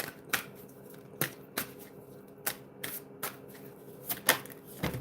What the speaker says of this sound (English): that ridiculous shuffle that I just did there